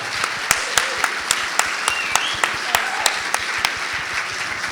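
An audience applauds after a literary conversation, steady dense clapping with sharper individual claps standing out, sustained throughout and fairly close.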